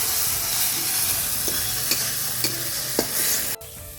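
A spoon stirs a fish mixture seasoned with salt and turmeric powder in a hot pan. Soft, close scrapes repeat every half second or so over a constant gentle sizzle, ending with a sharp knock.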